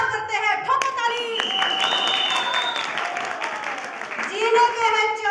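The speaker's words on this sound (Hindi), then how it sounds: "ठोको ताली" An audience at a healthy-living skit breaks into applause, a dense run of clapping layered with voices and music-like tones throughout, close and fairly loud.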